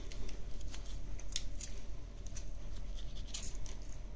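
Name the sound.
cutting veal shank around the femur head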